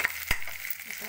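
Onions frying in a pan for a samosa filling, a steady close sizzle with a sharp crackle burst near the start, heard alone without talk.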